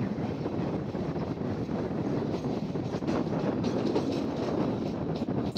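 A Shantipur–Sealdah local train rolls steadily along the rails just after leaving Kalinarayanpur Junction, a continuous loud rumble and clatter heard from inside with some wind noise.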